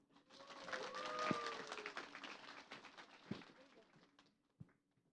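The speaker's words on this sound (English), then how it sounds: "Everyone, please give a big round of applause to Bagas Jati Kusuma" Audience applause at a cross-cultural learning event, a dense patter of clapping that swells and then thins out over several seconds, with a voice speaking over it and a few scattered claps near the end.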